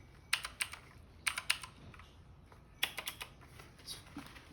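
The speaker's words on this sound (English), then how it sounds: "here is the mechanical Red Dragon keyboard. Listen to it." Typing on a Red Dragon RGB mechanical keyboard, with quick bursts of crisp key clicks in three clusters separated by short pauses, faint and close.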